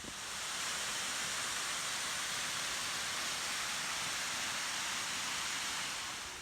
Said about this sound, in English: So I've just came to the edge of the stream there, and we're at a waterfall now